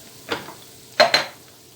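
Salted meat for sac kavurma is turned in a pan, giving a few sharp metallic scrapes and clinks. One comes alone and then a quick pair, over a faint quiet background.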